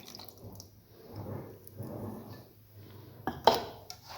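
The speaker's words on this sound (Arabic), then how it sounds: "هنحط فيه نص كوبايه ميه كده، وهنحاول نحطهم كده في الجناب كده." Half a cup of water poured into a baking tray of chicken and potatoes, quiet splashing and trickling in short bursts, with a sharper clink of the metal tray near the end.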